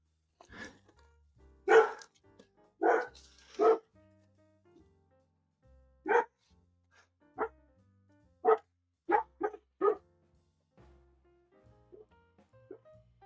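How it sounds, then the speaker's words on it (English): A dog barks indoors in separate sharp barks, first a few close together and then more spaced out, fairly near and with no talk over them. "Or maybe it's the barking."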